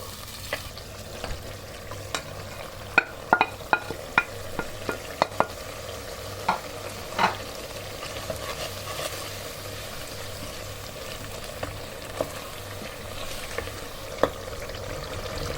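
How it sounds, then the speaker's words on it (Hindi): Spices sizzle and crackle steadily as they roast in a hot pan for chukandar gosht (beetroot and meat curry), with scattered clicks of stirring against the metal and no one speaking. "ये देखिए जी मसाले सारे अच्छे से भुन चुके हैं।"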